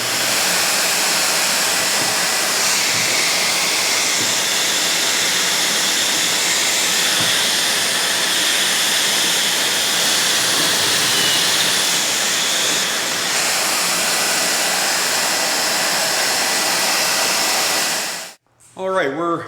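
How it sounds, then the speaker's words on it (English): A drill boring pocket holes into wooden wall-cabinet cleats makes a loud, steady whirring roar that runs without a break for about eighteen seconds, then cuts off abruptly. "let's go ahead and start doing the pocket holes for all these"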